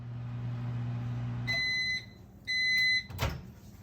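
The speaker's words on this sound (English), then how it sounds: "So I'm going to put this in the microwave for 30 seconds and see how it is after that." A microwave oven heating a gluten free baguette hums steadily, then falls quiet and gives two long, clear beeps, followed by a brief clunk of the door.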